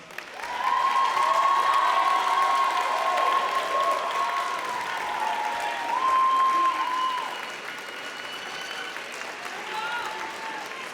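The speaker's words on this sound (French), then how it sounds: "c'est à vous, chers diplômés, d'applaudir vos amis et vos parents" Graduates at a university faculty of science graduation ceremony applaud their friends and parents, a broad steady ovation from a large crowd with scattered cheers and whoops, easing slightly toward the end.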